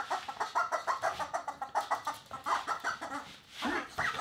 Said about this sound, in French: Je le frappe avec un poulet